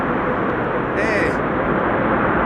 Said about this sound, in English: 787 using the reversers where the 747 didn't